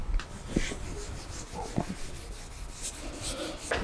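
Hand sanding nitro lacquer on a Flying V guitar body with sandpaper, a soft, close, continuous rubbing scratch in quick back-and-forth strokes, fairly quiet with no talking.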